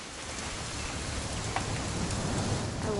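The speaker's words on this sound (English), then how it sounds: "It's gonna rain the whole weekend," Steady rain falls throughout in the video game What Remains of Edith Finch, a dense, even hiss of drops on surfaces with no talk over it.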